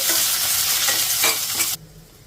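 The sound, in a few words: stirring and frying coriander seeds and cumin in a pan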